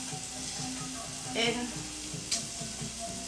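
Two garlic cloves frying in a pan, a soft, quiet sizzle with a couple of brief louder crackles and a faint word spoken.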